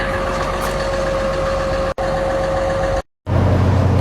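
An old 200 engine-driven welder runs at a steady drone with a sustained tonal hum, cut by a brief dropout and then a short silent gap before the engine note returns, with no talk.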